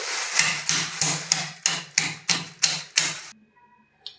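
A pestle thumps down eight times in a steady rhythm, sharp close knocks crushing chocolate in a container, then falls quiet.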